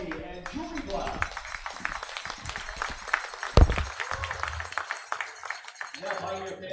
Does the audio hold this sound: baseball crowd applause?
yes